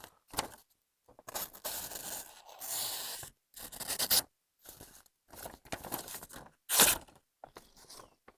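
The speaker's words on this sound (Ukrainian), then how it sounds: "І взагалі якось важкувато він ріже папір." A knife slicing through paper in repeated crisp strokes, scratchy rasping cuts with short pauses between, close and clear.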